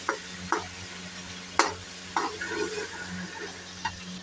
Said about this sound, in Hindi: ये तो लहसुन हमारा फ्राई हो चुका है, हमारा अच्छे से फ्राई हो चुका है।